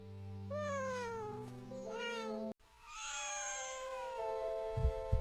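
A mother cat meows repeatedly in long, rising and falling cries near her kittens, close by, with a brief break midway and a few soft rustles at the end.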